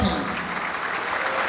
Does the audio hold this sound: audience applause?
yes